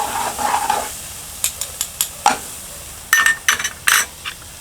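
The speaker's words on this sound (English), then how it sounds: "I'm going to add the ginger paste and the garlic paste, and then mix it together." A spoon scrapes and clinks in a pan as ginger and garlic paste is stirred into fried onions. The strokes come in irregular bursts over a soft, steady sizzle, close and fairly loud.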